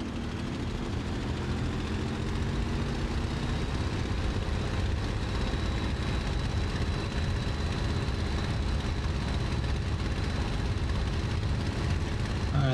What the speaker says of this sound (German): Und bei ca. 170 bis 180 km/h können wir dann abheben.